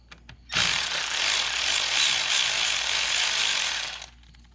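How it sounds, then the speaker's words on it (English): Hose clamp being loosened and pulled off the charge pipe of an EcoBoost Mustang, a steady close ratcheting and scraping that runs for about three and a half seconds after a few faint clicks. "So basically just gonna start by taking this clamp off here."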